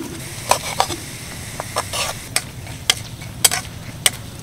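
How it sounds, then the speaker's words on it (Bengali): Four dried red chillies and half a spoon of nigella seeds frying in hot oil while a spatula breaks up the chillies, giving a soft sizzle under a string of sharp scraping and tapping clicks at irregular intervals. "হালকা করে ভেজে নিলাম।"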